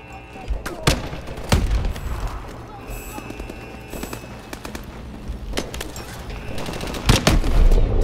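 Gunfire in Call of Duty Advanced Warfare, in the Fission mission: sharp, loud shots and short bursts rise irregularly over a dense, continuous battle din.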